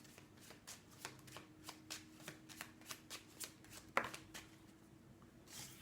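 An oracle deck of cards is shuffled by hand in a quiet room, giving a steady run of soft riffling flicks at a regular rhythm, close and fairly faint, with one sharper snap partway through.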